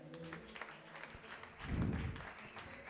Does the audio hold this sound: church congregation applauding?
yes